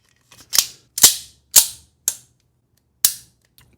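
An Alpha Foxtrot Romulus 4.25 Comp 2011 pistol has its trigger pulled repeatedly, producing five crisp, close metallic snaps spaced about half a second apart, with a longer pause before the last one, in an otherwise quiet room.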